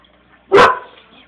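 A single loud dog bark, short and sharp, rising out of a quiet room with faint background murmur and no voices over it.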